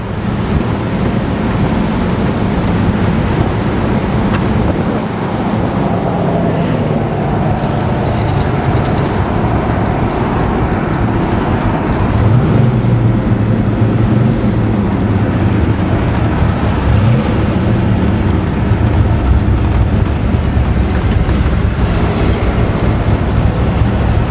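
A 1966 Pontiac GTO Tri-Power four-speed convertible being driven, with loud, continuous road and engine rumble mixed with heavy wind buffeting from the open top, steady throughout and without talk.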